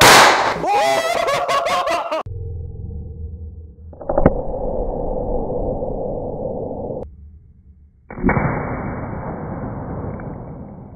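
A modified real gun fires a Nerf dart: loud sharp gunshot bursts with ringing echoes at the start, then a sustained broadband rush and noise continuing through the rest, with no talking.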